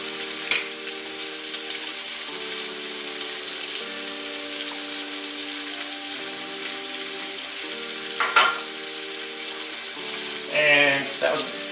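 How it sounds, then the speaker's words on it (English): Chopped yellow onion frying in melted butter in a pan, a steady close sizzle running throughout beneath a faint electrical hum, with a couple of brief utensil knocks and a short clatter near the end. "So what I'm gonna do is I'm gonna get some onion in here."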